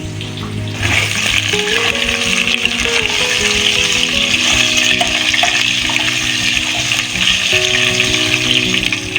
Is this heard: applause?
no